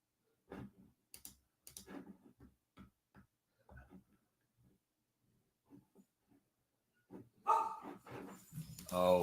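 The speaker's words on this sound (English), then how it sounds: "Dog's making noise." Scattered clicks and faint sounds give way to a dog barking loudly nearby, a short burst of barks at the end after a quiet stretch.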